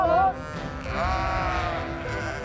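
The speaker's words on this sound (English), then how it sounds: "head up to the high country for a look and cook, talk to some sheep" Sheep bleating in the Southland high country of New Zealand, one loud wavering bleat up close at the start, then a steady mix of further bleats and flock noise from several animals around.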